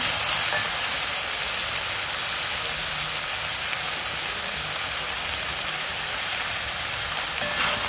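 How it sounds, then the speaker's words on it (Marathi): Green chillies, split down the middle, sizzle in hot oil in a pan with softened onion, a steady bright frying hiss that carries on evenly and close by, without talk. "तीन हिरव्या मिरच्या घालूया, मधून कट करून घेतल्या होत्या त्या. छान परतून घेऊ."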